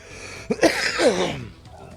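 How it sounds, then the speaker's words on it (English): A person coughs a few times in quick succession, close and fairly loud, with a rough, throaty, breathy burst. "Pardon me, coughing fit there for a moment."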